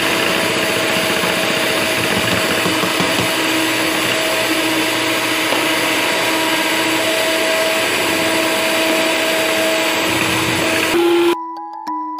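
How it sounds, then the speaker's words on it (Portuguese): An electric stand mixer runs at its top speed, beating sugar into a batter for maria mole, a loud steady whir that holds nearly constant before cutting off abruptly near the end. "vocês colocam no máximo da batedeira de vocês"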